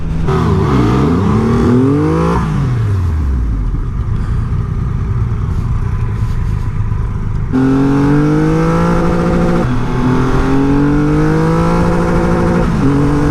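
A 2020 Triumph Rocket 3 2500cc motorcycle engine screams at high revs on the rev limiter, loud and close, its pitch sweeping and holding near a ceiling with stuttering bounces, continuous throughout without any talking.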